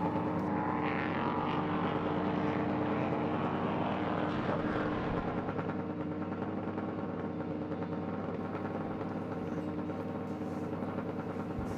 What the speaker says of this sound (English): listen to the V8 roar again.